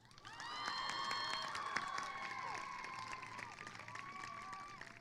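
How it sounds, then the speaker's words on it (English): Commencement audience clapping to honor graduates' parents, a sustained wash of applause with cheers and whoops rising over it, fairly distant and steady through the whole stretch. "we're going to clap after each one so that you can acknowledge each of these sets of supporters in your lives"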